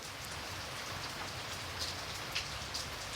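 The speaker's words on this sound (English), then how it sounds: "it was indeed once more raining, which seemed to be the only weather it could do convincingly" Steady rain falling outdoors, a dense continuous hiss of drops with occasional brighter patters, moderately close and without any voices.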